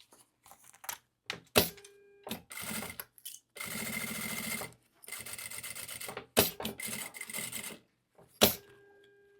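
A sewing machine stitches a fabric jewelry holder in several short bursts of fast mechanical whirring, separated by clicks, thunks and brief pauses, close up.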